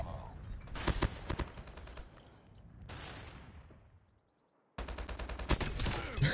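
Minigun fire in the mobile shooter COD Mobile: a long burst of rapid shots, then a sweeping whoosh that fades into near silence, then another sustained burst of rapid fire.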